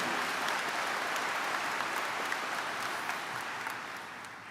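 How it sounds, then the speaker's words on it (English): An audience at a university spring commencement ceremony applauds, a dense, even crowd of clapping that holds steady for several seconds before easing off slightly. "Let's give Corey another round of applause"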